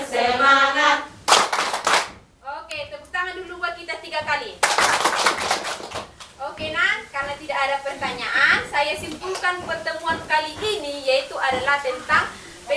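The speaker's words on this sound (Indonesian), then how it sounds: "tepuk tangan dulu buat kita 3 kali" A group at a health and nutrition session claps hands three times, with loud bursts of applause between stretches of someone talking and call-and-response speech.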